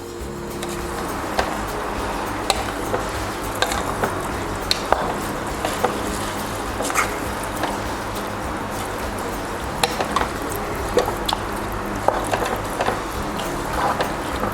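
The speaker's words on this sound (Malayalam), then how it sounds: "ഇതിനെ നമുക്ക് നല്ലപോലെ ഒന്ന് ഇളക്കാം കേട്ടോ." Soaked rice is stirred into a chicken biryani mixture in a pressure cooker, giving a steady wet squishing with light scraping clicks throughout and no talking.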